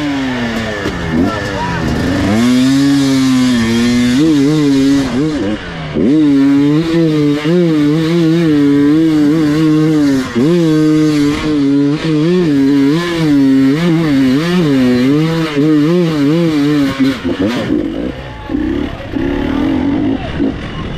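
A motorcycle revs at full throttle while climbing a steep hill at a hill-climb event, its engine note wavering and surging loudly and nearly continuously, with people talking over it.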